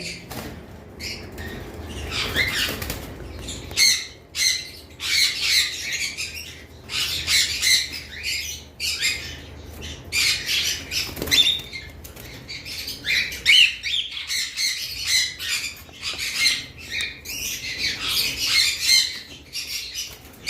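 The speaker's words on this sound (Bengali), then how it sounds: "এখানে দুইটা পাখি রয়েছে আমাদের কাছে" Caged cockatiels, including lutino and pied birds, squawk and chirp in rapid, uneven bursts throughout, loud and close.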